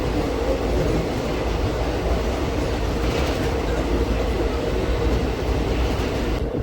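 A DEMU passenger train on the Nandyala to Kurnool line rumbles continuously along the rails, a loud, dense rolling roar with faint rhythmic wheel clatter heard from inside the carriage.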